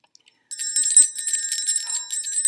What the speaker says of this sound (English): the bell still rings for me, as it does for all who truly believe.